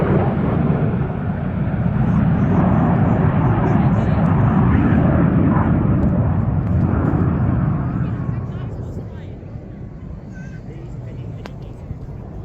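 Red Arrows jets flying the rollback manoeuvre at an air show, a loud broad roar of jet engines that swells and then fades into the distance, with a person talking over it.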